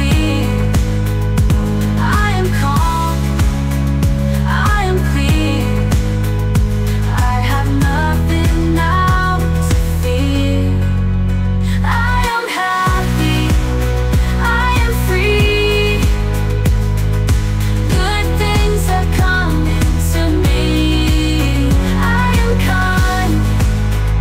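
The chorus of a motivational song plays loud and full, with a steady driving beat and sung melody, running continuously apart from one very brief dropout partway through.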